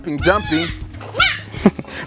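Young goat kids bleat on a goat farm, several overlapping wavering cries close by with short pauses between them, loud and clear with no talk.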